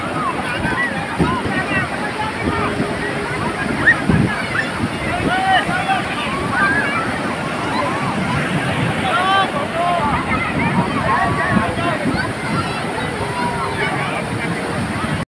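Ocean surf rolls onto the beach at Puri, Odisha, a steady wash of waves and wind noise running throughout, with people talking and crowd chatter underneath.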